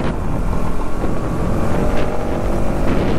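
Bajaj Pulsar NS200 motorcycle riding along a road on a group picnic ride, its engine a steady, loud drone mixed with heavy wind rush across the microphone, with no talking.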